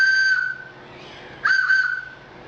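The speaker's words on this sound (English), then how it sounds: "So that's the emergency whistle." A homemade bushcraft emergency whistle carved from wood with a wooden dowel plug gives two short, shrill, piercing blasts close by, separated by a brief pause, with no talking.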